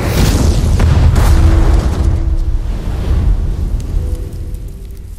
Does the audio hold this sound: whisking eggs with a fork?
no